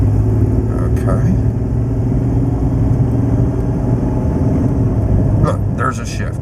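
A truck with a freshly rebuilt transmission that hangs in first gear accelerates, its engine producing a loud, steady, close-up rumbling drone that holds throughout with only slight changes in tone.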